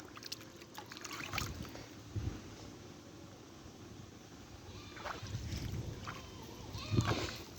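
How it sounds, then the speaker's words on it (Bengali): Irrigation water pumped by motor flows across an uneven Aman rice field, a steady outdoor wash and gurgle with occasional louder splashes and rustles nearby. "দেখতে পাচ্ছেন কত সুন্দর পানি চলে যাচ্ছে।"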